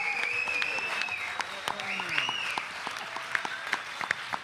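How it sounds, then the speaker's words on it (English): Festival audience applauding a reggae lineup at an outdoor event, a steady wash of clapping and cheers with whistles and vocal shouts rising above it, fairly close and sustained throughout. "So please give another warm round of applause for our special guest"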